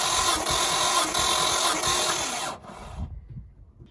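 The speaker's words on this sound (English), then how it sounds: "we'll just crank the engine now on cylinder 2 and show you" A Nissan R33 GTST engine cranks over on the starter during a compression test, a steady loud churning drone for about two and a half seconds that then stops, leaving quieter rattles and clunks.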